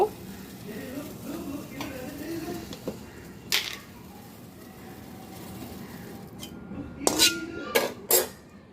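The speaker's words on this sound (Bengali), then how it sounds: "এটা এখন কইনেই চুলায় কড়াই বসাইছি, এখন তেল গরম দিব।" A wok being set on a kitchen stove to cook beef brain bhuna, with pots and utensils clattering in scattered metallic knocks and clinks that sharpen into a few loud bursts near the end, faint talk underneath.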